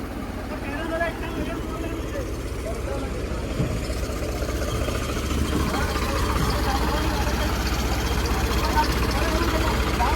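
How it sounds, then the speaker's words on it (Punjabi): Tractors idle near sand being hauled from farm fields, a steady low engine rumble running throughout while people talk over it. "ਇਹ ਸਾਰੇ ਟਰੈਕਟਰ ਰੇਤਾ ਤੇ ਲੱਗਣੇ"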